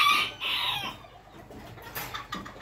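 Miniature wheaten-coloured hens and young pullets on a ranch, clucking and calling in a few bursts, close and clear with no talk.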